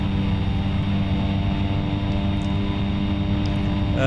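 A Cessna Caravan turboprop engine in the X-Plane 11 flight simulator drones with a loud, steady hum and whine that rises slightly at the end, with no voices.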